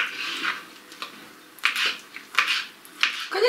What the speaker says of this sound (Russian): Режу ее просто кубиком.